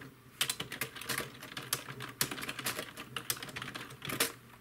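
Keys on a computer keyboard connected to a Raspberry Pi are typed in a steady run of close, crisp clicks, irregular in pace, with a faint background hum and no voices.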